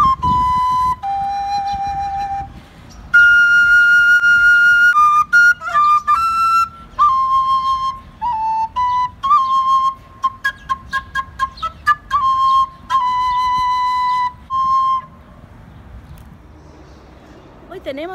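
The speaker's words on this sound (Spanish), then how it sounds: "Este se llama flauta dulce contralto y suena así." A baroque alto recorder plays a melody of clear, pure whistling notes, some held and others short and detached, close and alone until the playing stops near the end.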